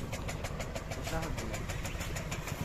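Motorbike engine running after restarting from an empty petrol tank, a steady mid-pitched rumble with rapid rhythmic pulsing, close and loud throughout with no gap.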